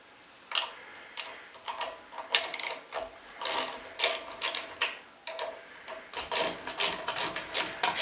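A hand ratchet clicks in short bursts while loosening 10mm bolts on the air filter casing of a Blue Max Gen4000B generator, the close, crisp ratcheting coming in repeated spurts with brief pauses and no talk.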